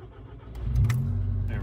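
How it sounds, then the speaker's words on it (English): A VW/Audi car engine cranks and catches, a short low rumble swelling within a second and settling into a steady close idle. "I'm gonna go ahead and start the car"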